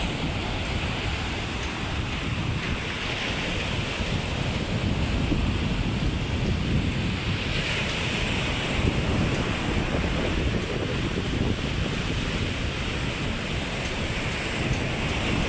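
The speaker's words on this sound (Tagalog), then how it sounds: "Lalaki ng alon" Heavy surf rumbles and crashes continuously, mixed with gusty wind blowing across the microphone, loud and unbroken with no voices.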